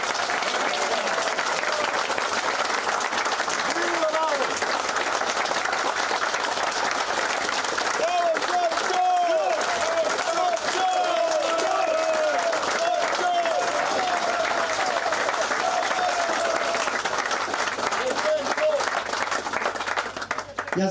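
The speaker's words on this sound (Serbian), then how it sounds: "pozivam vas da jednim gromoglasnim aplauzom pozdravimo legendu ovog kraja i Srbije, Radovana Rala Jovanovića." A crowd at a tribute event gives thunderous applause, a dense, steady roar of clapping that lasts throughout, with voices and brief shouts rising over it in places.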